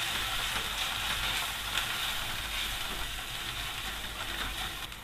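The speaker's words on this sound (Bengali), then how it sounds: "সবগুলো মশলাকে ভালো করে একটু ভেজে নিব।" Ground coriander, turmeric and salt fry in a pan while a catfish curry is being cooked. A steady, close sizzle runs throughout with no talking.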